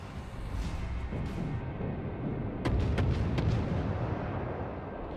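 A warship fires a broadside in World of Warships over a low rumbling sea ambience, with a cluster of three or four sharp, heavy booms close together midway through, followed by a fading low rumble.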